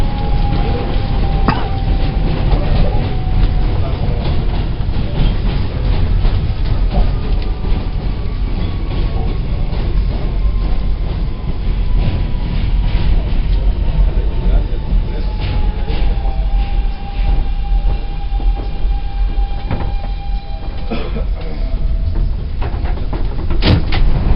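A Manhattan-bound New York subway W local train rumbles along the track in a loud, steady roar heard from inside the car, with rattling, clatter and faint squealing tones over the full length.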